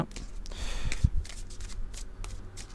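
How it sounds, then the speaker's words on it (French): A deck of oracle cards shuffled gently by hand, with soft riffling and sliding card sounds close up, in bursts with brief pauses and light handling noise. "on va commencer par brasser gentiment les cartes"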